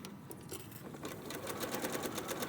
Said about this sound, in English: Just sew off the side, and then I'm going to reverse it and sew on the other side of the line.